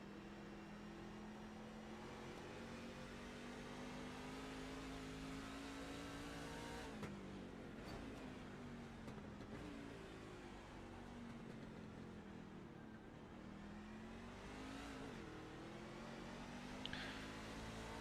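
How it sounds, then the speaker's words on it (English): A racing truck engine short shifting in the iRacing sim during a San Diego Truck Series race: a steady, loud in-car drone that rises in pitch and drops repeatedly with each upshift, with no talking. "He's definitely short shifting that truck."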